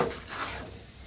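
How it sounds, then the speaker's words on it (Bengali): Gram dal being stirred in hot ghee for a chickpea halwa, with a soft scraping stir over a faint, steady sizzle, close and fairly quiet, no voices. "শুধু আমি ঘিটা আগে গরম করে নিছি, তারপরে এই যে ডালটা দিয়ে এখন নাড়াচাড়া করতেছি।"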